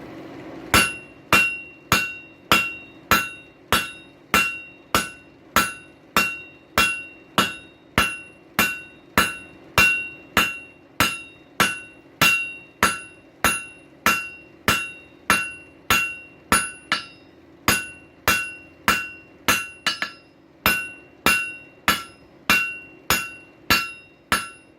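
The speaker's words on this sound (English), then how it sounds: "I'm going to try the 4-pound on it. If that don't work, I'll move to a yet smaller hammer." A 4-pound hammer pounds hot stainless steel pipe at a forge, dozens of crisp, ringing metallic blows in a fast, even rhythm with a couple of brief breaks, close up and with no voices.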